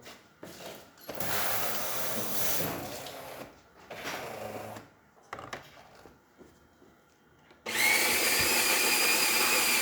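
A serviced Jura Ena 4 coffee machine grinds and brews a double, with loud whirring bursts, a gap and a shorter run, scattered clicks, then a steady loud pumping hum toward the end.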